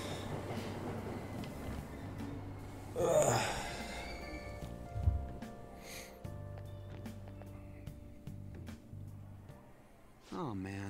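A train rushes past in Persona 5 Royal, a brief loud swell around the third second over a steady station hum and game music, fading into ambient rumble.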